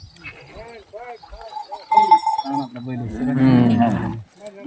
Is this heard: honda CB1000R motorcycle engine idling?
no